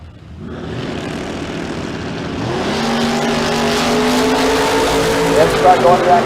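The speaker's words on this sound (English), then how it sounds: "that's the Camaro at 632, chasing that drop top Corvette" Drag racing launch at a dragstrip as a Camaro chases a drop-top Corvette, loud engines building from a low rumble into a rising, sustained roar of two cars accelerating down the track under an announcer's commentary.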